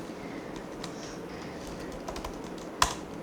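Code being typed on a computer keyboard: light, quick keystrokes in an uneven rhythm, close and fairly quiet, with one sharper key clack near the end.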